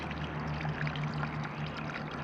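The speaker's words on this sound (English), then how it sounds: "Last flush." A clay forward-trap toilet flushing outdoors, water pouring and gurgling steadily at close range with a low hum beneath, no voices.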